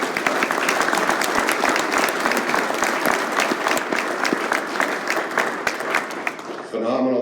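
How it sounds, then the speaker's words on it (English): Conference crowd gives a sustained round of applause, loud and dense with many overlapping claps, holding steady before it tapers abruptly near the end. "if I could get you to give Carrie and Micah a round of applause"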